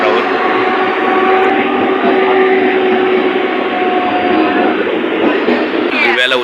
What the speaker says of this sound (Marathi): दिव्याला उतरलो आम्ही आता ट्रेनमधून